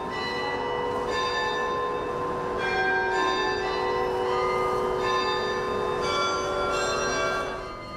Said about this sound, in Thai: สิ้นเสียงระฆังการยองค่ะที่แขวนบนยอดโบสถ์ตีตามจังหวะบทเพลงแห่งเทศกาลคริสต์มาส